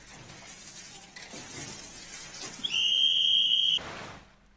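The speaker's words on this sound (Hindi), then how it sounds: "सफाई कार्य में लगी ये महिलाएं तब तक सीटी बजाती हैं जब तक घर में रह रहे लोग कचरे की बाल्टी और बोरी लेकर बाहर नहीं आ जाते" Sanitation workers blow a whistle to call residents out with their garbage: a loud, steady, high-pitched whistle held for about a second, rising over street background noise.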